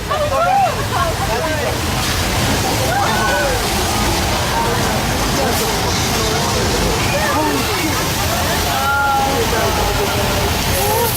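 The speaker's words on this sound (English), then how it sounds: "that water effect was the result of thousands of gallons of recycled water" Heavy water rushes and sloshes continuously from a flood effect on the Universal Studios Hollywood tram tour, loud and close, with excited voices and screams scattered on top.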